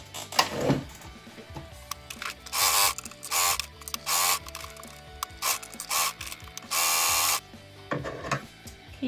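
Sewing machine stitching a pocket for a reversible mini tote bag, with bursts of rapid mechanical whirring in short runs, interspersed with clicks and fabric handling, close up and without speech.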